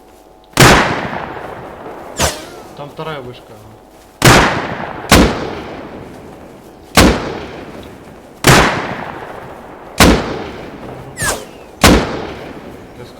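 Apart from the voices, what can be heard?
gunfire in the video game Rust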